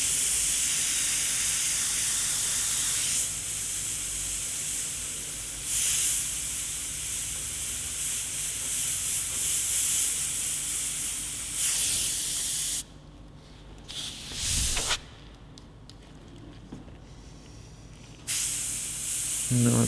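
An airbrush sprays paint through a stencil while a skull design is painted, giving a steady close hiss in long bursts separated by brief pauses, with a short gap of near silence near the end.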